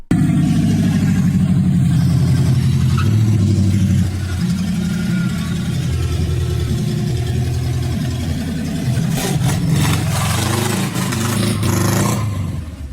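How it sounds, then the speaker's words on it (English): A classic car engine idles steadily up close, then stumbles and breaks up unevenly as throttle is applied under load in a driveway, with rough, irregular pulses replacing the smooth rhythm. "when I'm at idle, it sounds totally okay, but when I pull into the driveway, give it some throttle, it breaks up under load"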